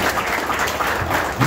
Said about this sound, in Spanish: Al cual nuevamente le pido un fuerte aplauso para celebrar